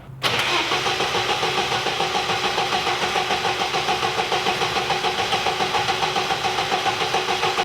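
An old car's engine cranks over and over in a fast, even churning rhythm that never catches, loud and close, with no voices.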